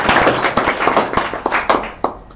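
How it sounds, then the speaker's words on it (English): A small audience at a mining industry event claps, close and loud with distinct individual hand claps in an uneven, thinning rhythm. "Another warm round of applause."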